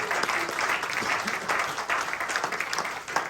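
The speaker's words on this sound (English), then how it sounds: "round of applause for Albert" An audience at a corporate event in Perth gives a round of applause for a club staff member, with dense, sustained clapping from many hands filling the room at a steady level for several seconds.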